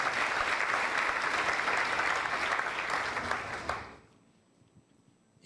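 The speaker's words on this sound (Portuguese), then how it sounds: "Podemos dar uma salva de palmas para Jesus pelo nosso irmão?" Dense, steady clapping from a church congregation fills the first four seconds, then cuts off into near silence with faint room noise.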